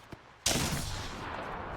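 Gunfire in the video game Apex Legends erupts suddenly after a near-silent moment, a loud, dense burst of shots that rolls into a sustained, roaring volley with no pause.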